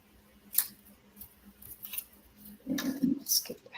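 Scissors cutting out paper shapes at close range, a few crisp snips scattered across a quiet moment, the last two louder and closer together.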